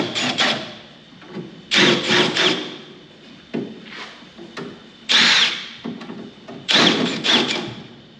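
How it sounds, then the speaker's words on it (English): A power drill is run through a hole on an MGB roadster, several short whirring bursts of a second or so each with pauses between, close and moderately loud. "I forgot to run the drill back through the other end there"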